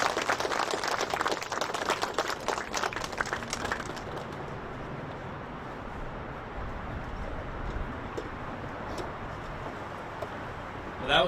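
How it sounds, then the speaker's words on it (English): An outdoor audience at a ceremony aboard the Battleship USS Massachusetts claps for two sailors, a dense burst of applause over the first few seconds that fades into open-air background with a few faint scattered claps. "One last round of applause for these two sailors here"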